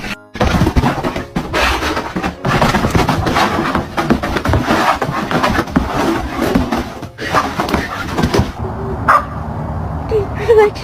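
Golden retrievers bark loudly and repeatedly at close range, with yips and a whimper mixed in and occasional thunks, the barking nearly continuous before tapering off near the end.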